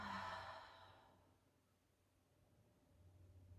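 Long soft exhale from a pregnant woman during a third-trimester prenatal breathing exercise, a single close, breathy sigh fading out over about a second, followed by quiet room tone.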